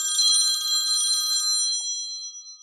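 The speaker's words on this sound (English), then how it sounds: "That's a phone." A phone ringing nearby, a bright, loud trilling ring lasting a moment before cutting off, then a faint fading tail with no talk.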